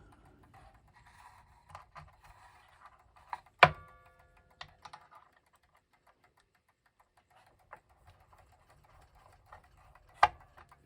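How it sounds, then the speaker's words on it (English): Screws being driven by hand into the case of an antique Ansonia mantel clock from about 1888–1894, giving a few sharp isolated clicks and scrapes separated by quiet gaps, with faint ticking underneath. "I just have to secure it with the 4 screws."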